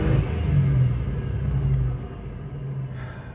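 An older Chevy Blazer engine held at full throttle labors in a deep, heavy rumble that sags and fades partway through as it bogs and nearly stalls, heard close with no talk.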